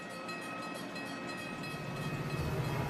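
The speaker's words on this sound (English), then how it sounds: "Emergency fuel gets passenger trains rolling again." A passenger train rolling along rails, giving a steady, moderately loud rumble with a faint sustained tone over it, continuous throughout with no talk.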